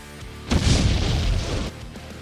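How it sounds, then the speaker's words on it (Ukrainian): A PG round strikes a camouflaged enemy howitzer, producing a single muffled, distant boom with a rumbling tail that lasts about a second. "ПГшку в цю гармату засадили."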